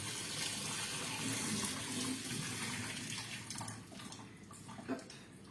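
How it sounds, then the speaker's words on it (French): Water being poured out of a rice cooker bowl, a close steady gushing splash that fades and breaks into trickles and a few drips toward the end. "verser et pouvoir supprimer toute l'eau qu'il y a à l'intérieur."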